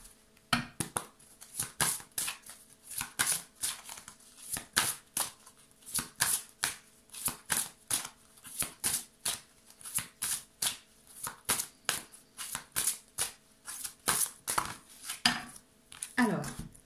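Tarot cards riffled and slapped together in a steady run of crisp bursts for the whole stretch, close and fairly loud, with no talking over them.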